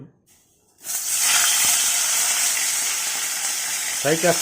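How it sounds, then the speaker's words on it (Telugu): Sea crabs hit hot oil in a pan for crab curry, bursting into a loud, steady sizzle after a quiet moment, with a few faint clinks of a utensil near the end. "ముందుగా ఫ్రై చేస్తున్నాం."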